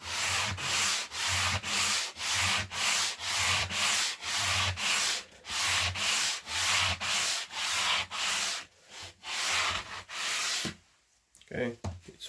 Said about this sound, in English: So this hardest grit will remove bigger parts from the wood. I just go 2 times this side